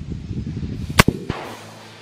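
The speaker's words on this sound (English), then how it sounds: "Let's shoot that hot 454 Casull and see what happens with this baby." A hot 454 Casull round fired from a Taurus Raging Judge Magnum revolver: one sharp, loud, close report followed by a brief echoing tail after a quieter stretch of handling noise.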